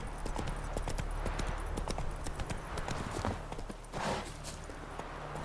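Roach the horse in The Witcher 3 gallops at a steady pace, with fast, even clip-clop hoofbeats and a short swell of movement near the end.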